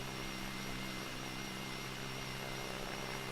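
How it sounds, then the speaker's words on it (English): Jet engines on a ship in SimplePlanes produce a steady, dense roar with a faint high whine on top, constant and unbroken throughout. "The jet engines take a while to spool"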